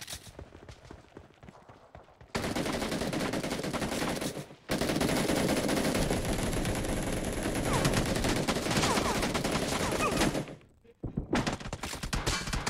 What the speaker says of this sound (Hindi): कहीं कहां से गोलियां आ रही है